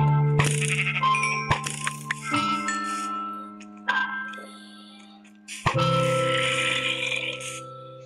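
Repeated sheep bleats in a castle-themed video game, loud and close, mixed with game chimes and other effects across the clip.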